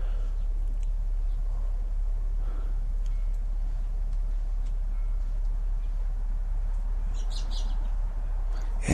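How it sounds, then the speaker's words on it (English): A few faint bird chirps sound outdoors, mostly late in the stretch, over a steady, noisy background hum. "There's another bird."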